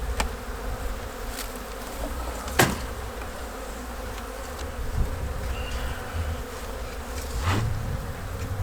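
Honey bees drone and buzz steadily around a Kentucky beehive being readied for winter, a close continuous hum with a few sharp knocks and no talk.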